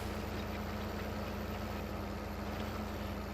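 A tractor engine in Farming Simulator 15 idles in a steady, low, droning hum, unchanging and fairly quiet, with no voices over it.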